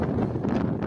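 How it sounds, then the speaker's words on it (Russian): Strong wind of over 20 metres per second roaring steadily at a reservoir campsite, buffeting the microphone with a constant low rumble for the whole second. "Ураган зашкаливает за 20 ветер."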